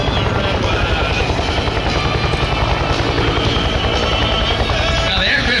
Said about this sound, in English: that pop, you hear it, yeah, that's that rotor blade